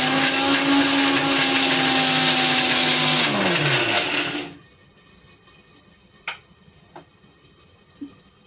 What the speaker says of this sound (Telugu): ఈలోపు మనం మిక్సీ జార్లో కొబ్బరి పౌడర్ చేసి పెట్టుకుందాం.